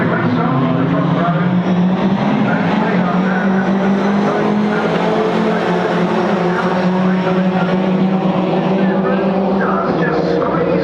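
Ginetta Junior race cars launching from the grid at a start at Brands Hatch on a slippery track, a loud continuous multi-engine drone with rising revs filling the whole stretch while a commentator talks over it.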